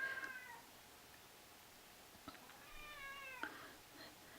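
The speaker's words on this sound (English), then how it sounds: "You can hear my cat behind me." A house cat yowls twice in the background of a quiet room, drawn-out meows with rising and falling pitch, faint and somewhat distant.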